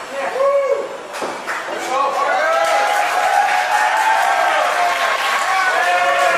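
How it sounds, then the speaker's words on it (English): A wrestling crowd at a Championship District Wrestling show in Atlanta cheers and applauds loudly and steadily after a match, while a commentator talks over the noise. "Great crowd support here for Parker Lee here at District Atlanta."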